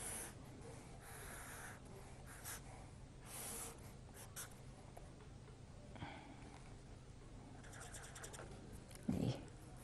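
Pen or marker scratching across a surface while sketching angles in a physics lesson on mirrors, a soft, steady scraping texture with brief louder strokes, faint and close, with no talk over it.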